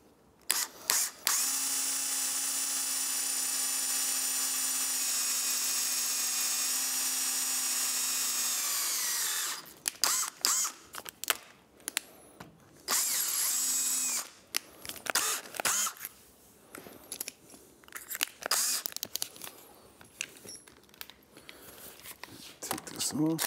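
Power drill boring through a handlebar bushing with a number 9 bit while fitting a cafe handlebar kit to a 2024 Triumph Speed Twin 1200, one long steady whine for several seconds, then short stop-start bursts and clicks, with talk in between.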